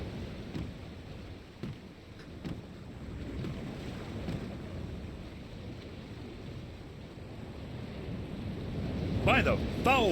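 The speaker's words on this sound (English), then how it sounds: "The storm is closing in." A storm closes in during The Longest Journey game, with low rumbling wind and distant thunder-like swells building steadily and a brief higher whistle near the end.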